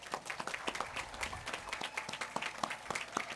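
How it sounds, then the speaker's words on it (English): Applause rings out at a 2021 high school graduation held in a stadium, a scattered field of sharp claps from a large outdoor crowd, steady and moderately loud across the whole moment. "Everyone, let's give the class of 2021 a round of applause."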